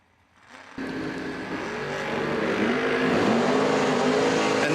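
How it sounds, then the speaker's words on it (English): Drag race cars launch and roar down the track at a Friday end-of-year drag racing event, a sudden loud engine blast building into a sustained, rising howl that stays close and strong throughout. "Let's go racing."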